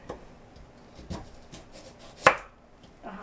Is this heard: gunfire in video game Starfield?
no